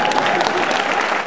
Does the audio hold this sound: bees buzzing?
no